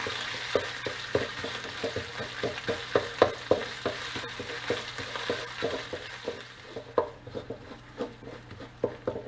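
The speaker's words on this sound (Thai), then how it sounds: "จากนั้นก็ใส่พริกแกงลงไปค่ะ ผัดให้สุกหอมเลยนะคะ" Thai curry paste stir-fried in a pan over gentle heat, a continuous sizzle with rapid rhythmic spatula scrapes and knocks against the pan, close and fairly loud, fading toward the end.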